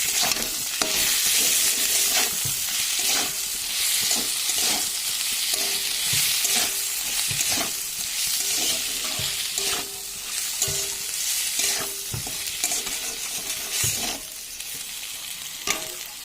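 Spices with salt and turmeric sauté in a pan, a dense continuous sizzle broken by repeated rhythmic scrapes and knocks of stirring, close and loud with no talking.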